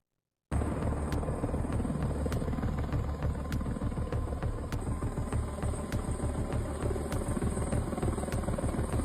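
Helicopter over a flood rescue on the Guadalupe River near Kerrville, Texas: a steady, loud rotor drone with regular blade thumps, continuous and close, with no voices.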